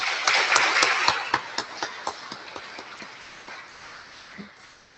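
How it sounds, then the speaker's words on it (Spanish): Audience applause at an engineering conference in Pisco, a dense burst of clapping that thins into scattered individual claps and fades away. "Aplausos, por favor."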